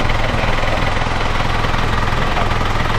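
A Ford Ranger pickup engine idles evenly with its hood open, a steady close rumble and mechanical hum holding constant throughout with no speech.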